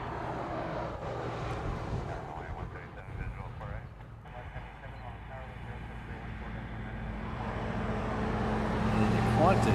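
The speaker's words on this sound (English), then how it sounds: "This is Hawaiian Flight 450 coming in from Osaka." A Hawaiian Airlines jet airliner arriving from Osaka rumbles in the distance, a broad low engine roar that swells steadily louder toward the end as it approaches, heard outdoors alongside a voice talking over it.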